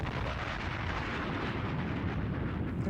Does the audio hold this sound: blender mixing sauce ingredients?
no